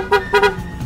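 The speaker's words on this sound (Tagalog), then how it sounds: "meron siyang loud horn, stock horn" A Honda Click V3 scooter's stock horn honks three times in quick succession, loud and close, with short bursts and brief gaps, over faint background hum.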